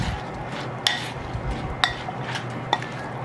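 A utensil stirs a bowl of vegetables with cucumber, tomato and shredded meat, making a soft steady scraping broken by three sharp clinks against the dish, close and alone without talk.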